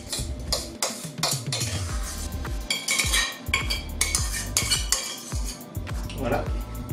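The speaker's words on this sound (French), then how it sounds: "je passe la quinoa dans le saladier principal" Cooked quinoa being tipped and scraped from a container into a large salad bowl of chopped fruit and vegetables for a quinoa tabbouleh, with repeated clinks and knocks of a utensil against dishes, close and busy, under some talk.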